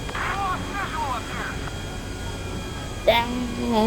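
A stolen airplane takes off in GTA 5, its engine droning steadily throughout, with voices talking over the roar and a louder rise near the end.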